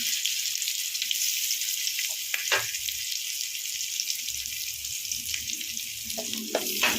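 Onions and coriander powder sizzle steadily in a hot pan while being sautéed for a vegetable stew, a close, continuous hiss with occasional stirring clinks and scrapes and no talk.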